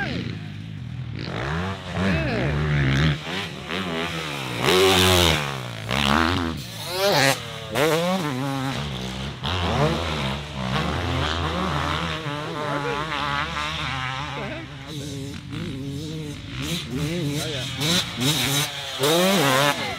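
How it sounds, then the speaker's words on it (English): A borrowed dirt bike ridden hard on a race track, its engine revving and whining up and down in rapid surges throughout, close and loud, with people talking over it. "Demo from Mr. Parsons on the borrowed bike."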